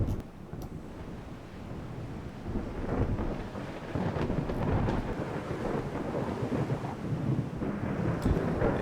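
A thunderstorm rages at sea in the Ultimate Admiral Dreadnoughts naval game, with constant deep rumbling thunder, rain hiss and wind building in intensity throughout, no voices.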